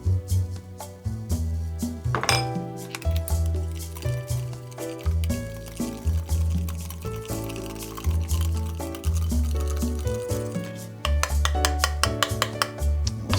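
A Bellini's peach mixture is strained into a glass, liquid pouring and dripping in a steady run over a rhythmic clattering backdrop, moderately quiet and with no voices.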